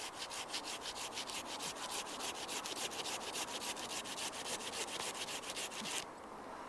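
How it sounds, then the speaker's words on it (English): A small hand saw cuts through wood in a steady, rapid back-and-forth rhythm of rasping strokes, close up, stopping abruptly near the end. "let's see how that works with this small saw."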